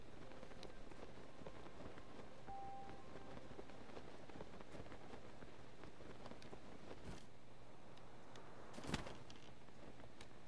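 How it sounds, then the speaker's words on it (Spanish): Steady rain falls in The Legend of Zelda: Tears of the Kingdom, a soft, even hiss with a few faint drips and ticks throughout, fairly quiet and with no voices. "Empezó a llover."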